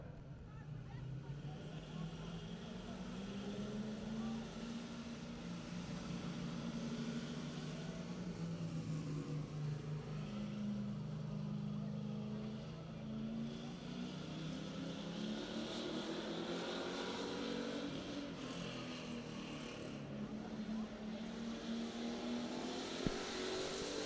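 A race car engine drones at a speedway during qualifying, a continuous mid-distance growl with rising and falling pitch as it circles, under a faint background of crowd and announcer ambience.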